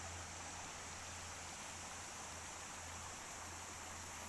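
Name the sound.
Khlong Nam Lai waterfall and stream flowing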